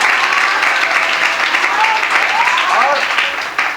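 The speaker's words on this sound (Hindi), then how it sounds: "जोरदार ताली से स्वागत है इसके लिए।" Hall audience at a Holi celebration gives a student loud, continuous clapping that fades toward the end, with a few voices audible underneath.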